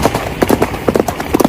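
A horse's hooves clip-clop steadily as it keeps moving along, a close, rhythmic series of hard knocks with a few brief pauses and no talking.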